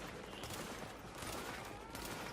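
Dense, continuous gunfire in the shooter game The Division, a steady rattling volley that lasts the whole short stretch with no clear gaps and no talking.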